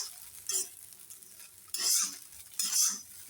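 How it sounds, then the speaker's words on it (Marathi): A spoon stirs and tosses sabudana khichdi in a hot pan, with three scraping, sizzling sweeps at separate moments and quieter clinks and frying crackle between them. "व्यवस्थित परतून घेते"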